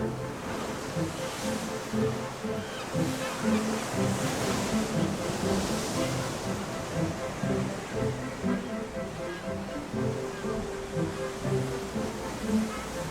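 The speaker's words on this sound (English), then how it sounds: "Waves start to batter Rinsey Cove once again." Sea waves surge and batter the rocks of Rinsey Cove in Cornwall in continuous rolling washes, loud and close, with wind buffeting the microphone throughout.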